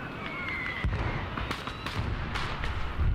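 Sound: anti-tank guided missile firing in video game Call to Arms

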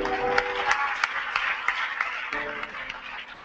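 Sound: church congregation applauding

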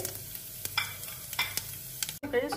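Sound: cumin, fenugreek and rice frying in oil

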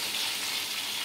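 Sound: chicken leg pieces frying in a pan

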